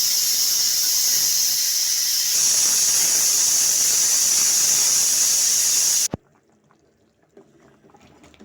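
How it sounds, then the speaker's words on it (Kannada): Loud, continuous high-pitched hissing whistle of steam escaping from a pressure cooker cooking field-bean sambar, stopping abruptly and leaving quiet kitchen noise. "ಇವಾಗ ನಾನು ಕುಕ್ಕರ್ನ ಮುಚ್ಚಿ 1-2 ವಿಷಲ್ ಕುಕ್ಕರ್ನ ನಾನು ಕೂಗಿಸ್ಕೊಳ್ತೀನಿ ಸಾಂಬಾರನ್ನ"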